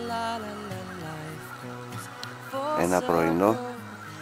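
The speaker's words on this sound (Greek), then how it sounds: "Ακούτε τις φωνές από τις χήνες." Geese calling on a wet early morning of goose hunting in Bulgaria, with overlapping honks and cackles that rise and thicken near the end while someone talks over them throughout.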